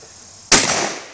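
A single shotgun blast fired at a bottle cracks sharply outdoors, one loud close report followed by a short fading tail.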